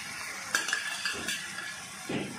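Cut onion and coriander are stirred into a fish curry mix made with Pandukappa sea bass, giving soft close scraping and a few light clinks of a spoon against the pot, with no talk.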